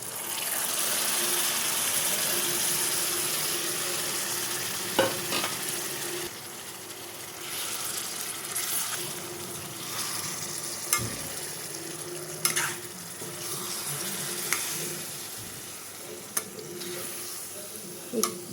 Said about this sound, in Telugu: ముందుగానే మనం మ్యారినేట్ చేసి పెట్టుకున్న ఈ చికెన్ని ఇప్పుడు కర్రీలోకి అయితే యాడ్ చేయాలి